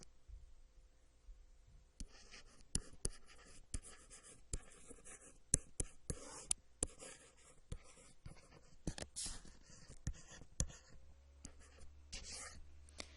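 A pencil or pen scratches out a geometry proof on paper in short, quiet strokes and taps, starting after a brief silence and continuing in an irregular rhythm close to the microphone.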